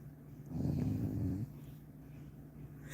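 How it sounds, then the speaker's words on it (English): A single loud snore, one deep rumbling inhale of about a second, rises close by over a steady low hum and then fades into quiet breathing, with no talk. "Here we go with the snoring"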